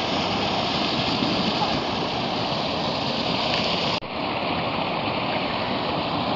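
Natural spring water at a lakeside spot in Nanaimo pours steadily into containers, a continuous close rushing and splashing with a brief break and shift in tone partway through.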